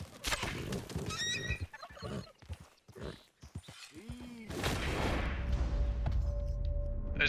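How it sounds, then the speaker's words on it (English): Turkeys in the Red Dead Redemption 2 world give short, rising gobbling calls between dull thuds and footfalls. A steady low hum settles in toward the end, and a voice murmurs now and then. "There's turkeys."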